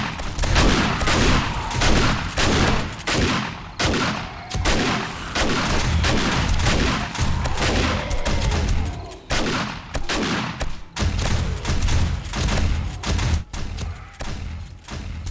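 Rapid, dense shotgun blasts boom one after another during a horde night in the video game 7 Days to Die, loud and continuous with barely a pause between shots.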